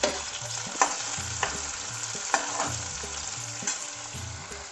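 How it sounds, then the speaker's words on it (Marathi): Onion fries in a pan for soya chunks bhurji, with cumin and a little coriander already in, a close steady sizzle punctuated by regular spoon knocks and stirring strokes, over soft background music and no speech. "आता आपण याच्यात कांदा टाकून घेऊया।"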